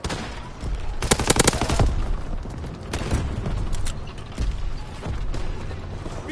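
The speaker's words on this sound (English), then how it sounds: "Keep firing!" Machine gun fire in the Call of Duty WWII video game comes in loud, rapid bursts, with the heaviest volley early on and shorter bursts recurring over steady battlefield noise.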